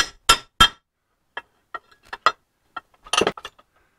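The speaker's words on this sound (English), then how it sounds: "you can use your plate and just a hammer." A hammer strikes sheet metal resting on a steel plate while a short Z bend is formed, giving sharp metallic taps up close: two loud blows at the start, then a scattered series of lighter, irregular hits.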